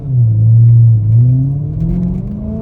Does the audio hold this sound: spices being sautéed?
no